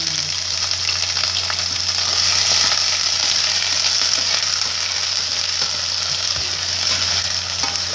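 Chopped garlic and onion sizzle steadily in a hot pan for a homemade lasagna sauce, a loud, continuous frying hiss with faint stirring and no talking.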